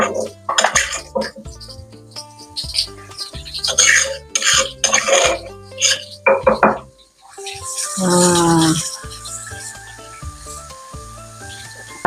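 Spice paste for soto ayam sizzles and hisses steadily in a pan, with stirring scrapes. It is close and fairly loud, with music playing underneath and brief talk.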